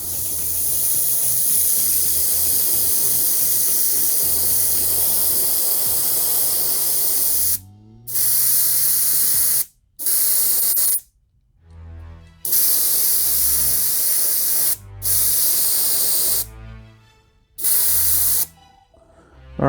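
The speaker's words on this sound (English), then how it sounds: "I did get the resin through the airbrush" An airbrush hisses out resin onto a 3D printed statue in loud sustained bursts, with several abrupt stops and restarts toward the end as the trigger is released and pressed again.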